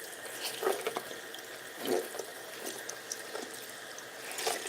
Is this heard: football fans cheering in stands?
no